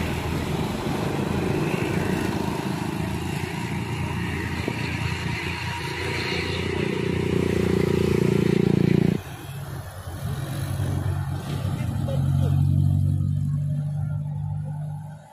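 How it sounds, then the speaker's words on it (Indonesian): A tour bus drives past on a road, its engine rumbling loudly and steadily before dropping away suddenly, followed by another engine droning at a lower level. "Kita sambut bis pariwisata Raja Wali dari sebelah sini, Ken Arok."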